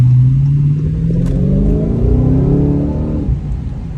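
Dodge Hellcat engine revving hard while driving, heard from inside the car as one loud rising roar that climbs in pitch for about three seconds, then eases off, with no talk.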